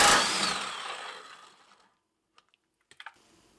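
An impact wrench on a Jeep Wrangler TJ front body mount bolt, a loud close whirring burst that fades out over about two seconds, then silence and a few faint clicks.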